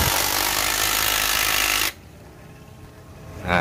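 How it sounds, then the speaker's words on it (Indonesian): An impact wrench fastening the clutch nut on a Vario 160 scooter roars loudly for about two seconds, then stops, with a brief burst again at the end. "jadi biar lebih cepat kita gunakan pakai impact"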